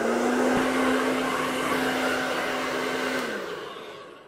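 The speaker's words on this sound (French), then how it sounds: "je vais tout simplement lui sécher les cheveux au sèche-cheveux rapidement" A hair dryer blows steadily and loudly at close range while drying the natural hair of a cheap doll training head, humming evenly before winding down near the end.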